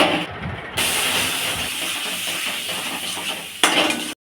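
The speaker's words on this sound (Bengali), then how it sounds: "এবার সামান্য জল দিয়ে দিয়ে কষে নিচ্ছে।" Spice paste for a potol dorma (stuffed pointed gourd) dish frying in a pan with a little water, giving a steady close hiss and sizzle throughout, with faint stirring and scraping of a utensil against the pan.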